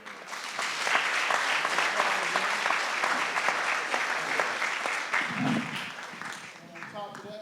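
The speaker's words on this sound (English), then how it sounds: "Give him a round of applause." An audience at a Founders' Day convocation breaks into sustained applause, dense loud clapping that holds steady for several seconds before thinning, with voices in the crowd.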